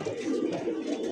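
Pigeons coo steadily and close by in a pigeon seller's loft, a continuous low throaty murmur filling the whole moment with no talk.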